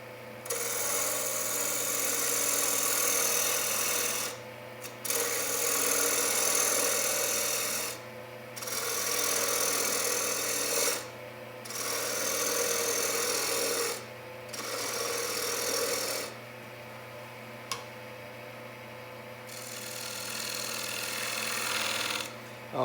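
A small wooden bowl spins on a lathe while a bowl gouge scrapes at it, a close, raspy cutting sound in repeated passes of a few seconds each, separated by short pauses with the lathe's hum underneath.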